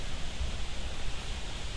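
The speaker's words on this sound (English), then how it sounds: "So, it's a little windy." Steady wind of about 10 mph rumbling and buffeting against the microphone at a squirrel-hunting campsite, a broad constant rush with low gusty thumps, no voices.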